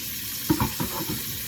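Car-cleaning items washed by hand and shaken in a bucket of water, giving a few brief sloshing splashes against a hissy background.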